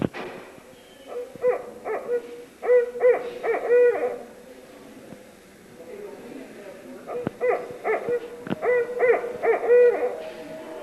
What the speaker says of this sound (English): The common owl of the hardwoods is the barred owl.